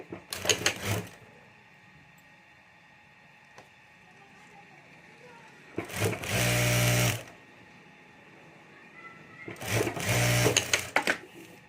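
Sewing machine stitching a fabric strip over a zipper on a homemade pencil pouch, in three separate bursts of rapid mechanical whirring, near and fairly loud, with quiet pauses between.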